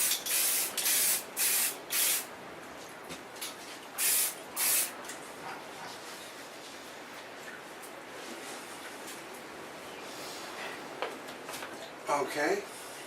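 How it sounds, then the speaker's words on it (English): Aerosol spray paint hisses in several short bursts indoors onto a guitar being restored, then a steady quieter spray, close to the microphone, with soft handling noises between. "Which is the reason why I'm spraying this inside instead of a well ventilated area."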